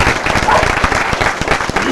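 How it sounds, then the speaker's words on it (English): Crowd applauding at a Pride flag raising at St. John's City Hall, dense close clapping that continues steadily throughout the short stretch. "A round of applause, everybody."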